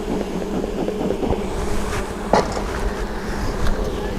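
Steady buzzing of many honeybees around an open hive of an aggressive colony, a continuous close drone with a few louder bees passing near.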